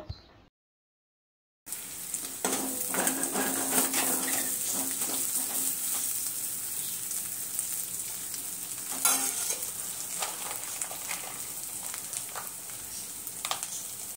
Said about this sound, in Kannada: ಸಣ್ಣದಾಗಿ ಕಟ್ ಮಾಡ್ಕೊಂಡಿರೋಂಥ ಈರುಳ್ಳಿನ ಹಾಕಿ ಚೆನ್ನಾಗಿ ಫ್ರೈ ಮಾಡ್ಕೋಬೇಕಾಗುತ್ತೆ ಕಲರ್ ಚೇಂಜ್ ಆಗೋವರೆಗೂ